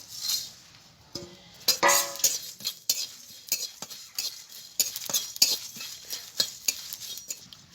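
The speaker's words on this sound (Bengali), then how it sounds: "সবগুলো মশলা আমি একসঙ্গে ভেজে নেব" Whole spices with dried red chillies fry in a pan for an aloo chop filling, stirred with a utensil that makes repeated close scrapes and clinks over a light sizzle, with no talking.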